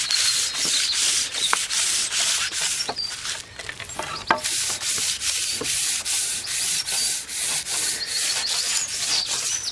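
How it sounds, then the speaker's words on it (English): Wood burnished by rubbing it with a handful of wood shavings, heard as rapid rhythmic scratchy swishes of back-and-forth strokes, close and loud, with no talk. "grab a handful of your shavings, push up and down, and that will burnish the wood, give it a little bit of a polish"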